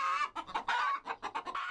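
Chickens kept for sale in rural Egypt cluck in quick, uneven bursts, several hens close by and fairly loud, with short pauses between calls and no talking.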